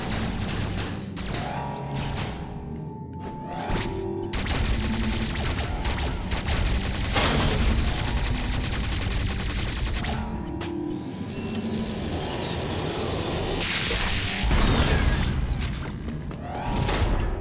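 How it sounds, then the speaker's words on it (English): The Omega Blaster firing in Metroid Dread, heavy booming shots and crashing impacts layered over dense mechanical game noise and music, loud and continuous with repeated surges throughout. "Oh wait, Omega Blaster is online."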